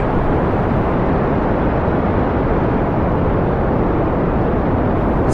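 Steady, dense rumble of a spacecraft engine in a video game, holding loud and even throughout with no clear rise or fall in throttle and no speech.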